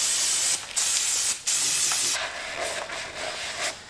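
Brake cleaner sprays from an aerosol can onto a torn-down 2.6 liter engine from a Land Rover project, in several sharp, close hissing bursts separated by brief gaps.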